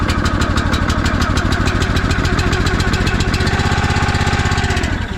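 A gas engine on a 40-ton Country Line log splitter runs loud and close after a pull start, a fast steady chugging putter that holds even for several seconds before cutting off abruptly at the end.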